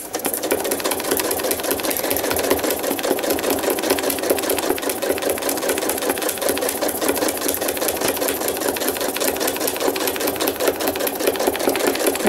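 Zigzag stitching on a thread-art piece made from a photo: a sewing machine runs loud and close in a fast, steady rattling hum without a pause.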